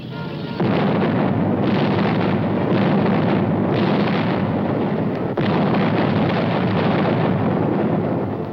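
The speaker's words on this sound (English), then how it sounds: "the enemy was kept off balance with our artillery fire" WWII artillery fire during the invasion of Southern France rumbles as a continuous, heavy, distant barrage, dense booms blending into a roaring wall of sound with no voices.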